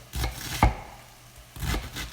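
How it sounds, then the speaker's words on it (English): A knife cuts through cabbage in a few quick, crisp strokes against a cutting board, close by, with a short pause between bursts. "so now I'll just chop this up"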